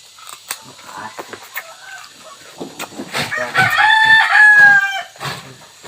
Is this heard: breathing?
no